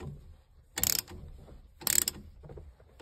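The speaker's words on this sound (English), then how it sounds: "All right, so we got 3/4 inch socket ratchet." A 3/4 inch socket ratchet works on a Mopar steering wheel, giving two short loud bursts of rapid clicking about a second apart over quiet background.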